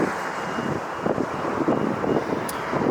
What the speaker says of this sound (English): Delta Flight 2606 A321-2 going to Seattle, Washington